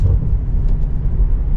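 A 2023 BMW M850i xDrive coupe exhaust emits a loud, deep, continuous rumble, close and steady, with no voices.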